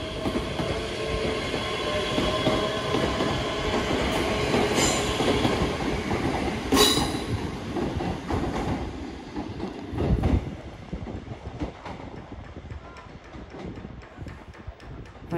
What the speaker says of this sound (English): Now departing, we have 385032 doing